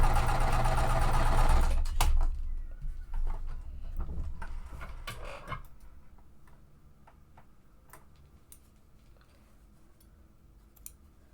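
A sewing machine runs steadily while stitching quilt triangles, a loud burst of fast whirring at first that stops, followed by scattered quiet ticks and clicks of handling.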